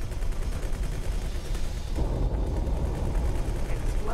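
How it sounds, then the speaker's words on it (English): Spaceship turrets fire a broadside in the space game X4: Tides of Avarice, a dense continuous roar of rumbling blasts and impacts that swells midway, with someone talking over the barrage. "So turrets are now opening up"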